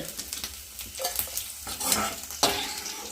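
Prawns fry in a pan for a tomato prawn curry, a close sizzle with intermittent spatula stirs and scrapes against the metal.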